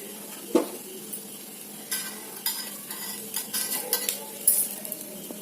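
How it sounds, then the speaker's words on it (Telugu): Bread pieces frying on high flame with dry fruits, a continuous sizzle broken by sharp metallic clinks and scrapes of a spatula against the pan. "హై ఫ్లేమ్లో పెట్టుకుని బాగా అయితే వేగించుకోండి."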